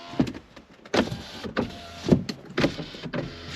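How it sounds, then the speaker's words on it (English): Electric car windows whir up and down in several short motor bursts, each lasting about half a second, with brief pauses between them. "I'm going to check all of my windows, make sure they all open and close."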